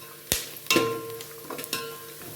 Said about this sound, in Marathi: आता हे छान मिक्स करून घेऊया.